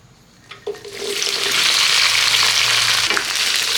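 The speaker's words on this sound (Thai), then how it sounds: "เราจะเริ่มผัดกระเจี๊ยบนะครับ" Krachiap hits hot oil in a pan over medium heat and is stir-fried; after a couple of soft knocks, a loud, dense sizzle swells and holds steady, with a brief clank of the utensil near the end and no voices.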